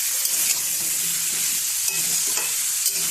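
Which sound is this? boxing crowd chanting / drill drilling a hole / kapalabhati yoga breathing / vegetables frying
vegetables frying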